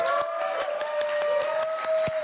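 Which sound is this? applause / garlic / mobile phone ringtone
applause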